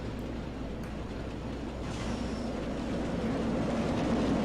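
Steady low rumble of an alpine coaster car rolling along its rail track, growing slightly louder and more rattly as it moves, with no voices.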